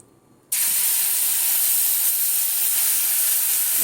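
Raw mango pulp drops into hot ghee in a pan, setting off a sudden loud sizzling hiss after a brief quiet moment, then a steady, close sizzle with no talk.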